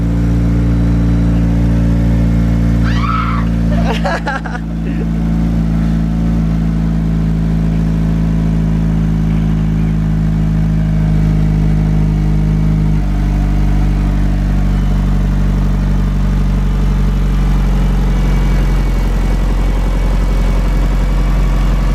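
A Mitsubishi Evo's engine runs after a jump start, holding a loud, steady idle heard up close from inside the car, with a brief clunk and shift in tone early on before it settles into an even drone.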